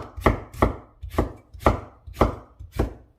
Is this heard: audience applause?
no